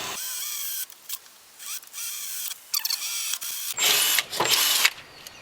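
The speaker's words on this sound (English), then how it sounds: "Now we'll start drilling." A power drill whines in short bursts, stopping and starting several times, drilling holes in a Jeep Cherokee XJ for a hood strut kit, followed by louder grinding bursts near the end; close and fairly loud.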